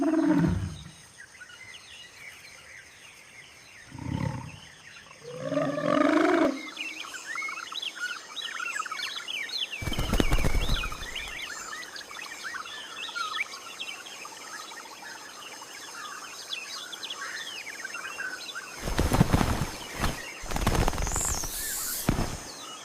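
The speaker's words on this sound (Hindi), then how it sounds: "पक्षियों की चहचहाहट, हवा की सरसराहट और अनजान जीवों की रहस्यमयी पुकार" Birds chirp and call throughout a humid Amazon rainforest setting, layered over a constant insect drone, with a few louder bursts and animal calls rising now and then at moderate distance.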